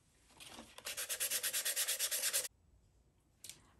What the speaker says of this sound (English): Okay, I finished sanding.